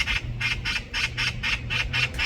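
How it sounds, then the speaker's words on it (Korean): A magpie calls noisily outdoors, giving a run of about nine harsh, evenly spaced chattering squawks, close and loud with nothing else over it. "까치가 굉장히 요란한데요."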